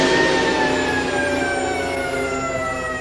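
Sirens in Varèse's percussion piece Ionization wail in sustained, slowly falling tones, loud and continuous over a dense wash of percussion.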